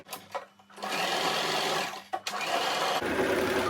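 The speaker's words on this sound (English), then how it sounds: "Sew it back and forth." A sewing machine stitches fabric for a gathered ruffle turban hat: a few short stuttering bursts, then long continuous whirring runs with a brief pause as the stitching reverses back and forth, loud and close.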